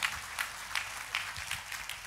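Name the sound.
audience applause in church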